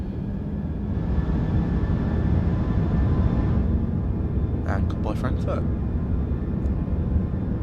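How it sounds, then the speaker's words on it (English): Airbus A340-300 jet engines spool up on the takeoff roll at Frankfurt in Microsoft Flight Simulator 2024, a steady, loud rumbling roar with a rising whine that holds throughout, joined by a brief spoken line near the end. "the engines, you can hear them"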